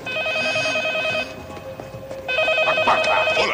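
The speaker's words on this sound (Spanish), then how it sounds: "Teléfono." Telephone bell ringing in a 1990s comedy film, a steady electronic trill with two bursts separated by a short gap, loud and close amid faint background sound.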